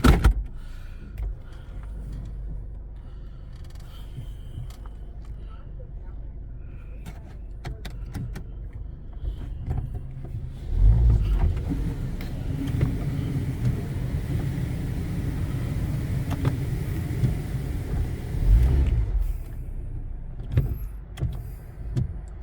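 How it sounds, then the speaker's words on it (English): A Futura Impulse touchless car wash runs steadily at close range. A broad rumble of motors, pumps and spray fills the recording, with louder surges around the middle and near the end. "No, this is a touchless car wash."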